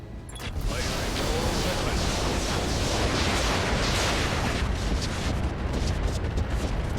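Mech weapons firing all at once in the game RogueTech, a dense, sustained roar of overlapping blasts and crackling impacts that holds loud for several seconds.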